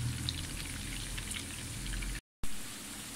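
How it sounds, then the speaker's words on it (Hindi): Garlic, ginger and onion sauté in a hot pan, giving a steady crackling sizzle throughout, broken by a brief silent gap before the frying resumes. "मैंने लहसुन अदरक और प्याज ये डाल के इसको हमने ज़रा सा सौते करना है"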